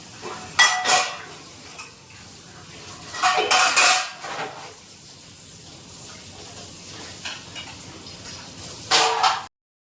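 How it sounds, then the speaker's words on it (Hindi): Washing dishes while cleaning a home kitchen, with steel utensils and plates clattering and clinking in bursts, near and fairly loud, between quieter stretches of running-water hiss. "मैं अभी आ गई हूँ किचन क्लीन करने के लिए, क्योंकि बर्तन साथ साथ ही होते जा रहे थे"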